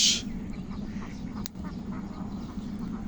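Ducks quacking near a farm's rice plantings, calls bursting in a busy overlapping cluster at the start and continuing faintly beneath a steady background hum.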